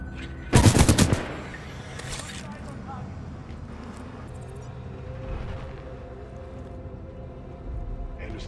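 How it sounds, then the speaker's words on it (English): A loud, close burst of rapid automatic gunfire in Titanfall 2 rattles for about half a second, then drops to a low, steady battlefield rumble with faint distant noises, and a voice speaks now and then. "Suppressing fire!"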